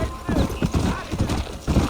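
Horse hooves clip-clopping at a trot in the Western video game Red Dead Redemption, a steady close rhythm of hoofbeats with a voice talking over them.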